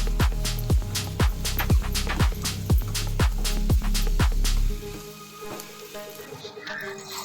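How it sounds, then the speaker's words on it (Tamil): Onions frying in a pan for a dried anchovy fry, with a steady sizzle and repeated sharp clicks or taps that stop after about five seconds, leaving a quieter sizzle. "வெங்காயம் நமக்கு பாதி அளவு வணங்கிருச்சு."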